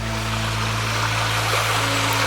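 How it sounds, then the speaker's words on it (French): The river at Criel-sur-Mer running high after a day of heavy rain, a loud, steady rush of flowing water with a constant low hum, no voices. "Pour vous faire montrer la rivière de Criel quand il pleut beaucoup."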